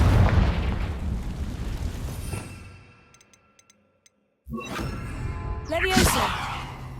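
Confringo explosion spell in Hogwarts Legacy, a heavy rumbling blast fading into quiet with a few faint clicks, then another burst of loud crackling impact and debris.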